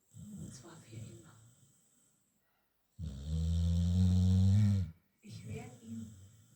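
An American Staffordshire terrier snoring up close, a loud, drawn-out rumbling snore between softer breathy snorts, with pauses of near silence between breaths.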